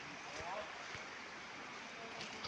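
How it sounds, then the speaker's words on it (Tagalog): Tungtong Falls in DRT Bulacan, a waterfall feeding a river, rushing as a constant broad wash of water that fills the scene without pause. "Dito na kami sa Tungtong Falls, DRT Bulacan."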